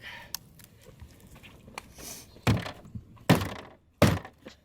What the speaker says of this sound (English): Now we put that mag back in there.